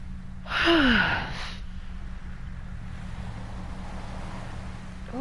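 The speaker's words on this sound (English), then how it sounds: "Ooh, that was a big yawn." A big human yawn, close and fairly loud, rises and falls with a breathy drawn-out voice for about a second, then gives way to a quiet steady hum.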